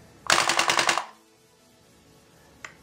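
A KWC CO2 blowback Mini Uzi airsoft gun firing one short full-auto burst of rapid, sharp cracks, close and loud, then quiet with a single faint click at the end.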